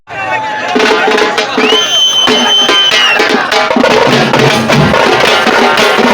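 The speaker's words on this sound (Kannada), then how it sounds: "ಕಾರ್ಯಕರ್ತರು ಶಿಳ್ಳೆ ಚಪ್ಪಾಳೆ ಹಾಕಿ ಸಂಭ್ರಮಿಸಿದರು" A crowd of party workers cheering an MLA's dance, with loud continuous clapping, whistles and shouting, one long rising whistle standing out, close and boisterous throughout.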